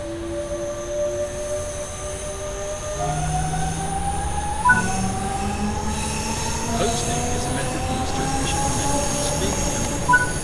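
A Bombardier, Siemens and DWA electric multiple unit in Train Sim World 3 runs along the rails, with a steady rumbling hum and rising whining motor tones that step up repeatedly as it gains speed, plus occasional clanks; no talking.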